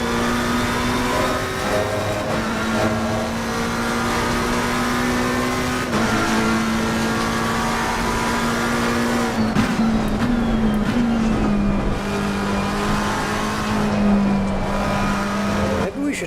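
A McLaren race car in Assetto Corsa Competizione at Silverstone accelerates under full throttle, its engine holding a steady loud drone that rises and dips slightly through the gears, with faint tyre noise and some talk over it.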